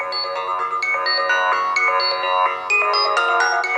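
An HTC One smartphone plays its ringtone, a bright synthesized melody of short repeating tonal notes. It rings loud, close and steady for the whole stretch with no voices.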